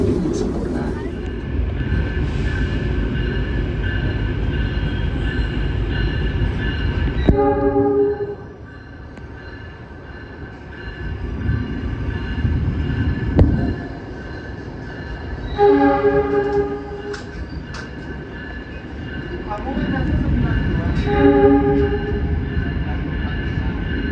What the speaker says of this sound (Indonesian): perjalanan kereta api Mutiara Selatan yang aku naiki telah tiba di stasiun Madiun